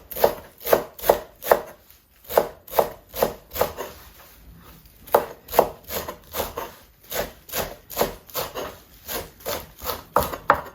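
A knife chops shallots rapidly against a cutting board in quick rhythmic bursts, briefly pausing, then resuming close and crisp.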